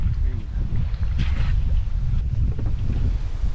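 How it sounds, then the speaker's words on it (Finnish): Moderate wind blows over a boat trolling for salmon on the Tornio River in summer heat, making steady low buffeting and rumble close to the microphone, with brief faint sounds on top. "Kohtalainen tuuli."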